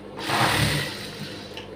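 Sewing machine stitching a high neck blouse: a steady, close whirring run lasting under two seconds, loud and continuous, with no voices over it.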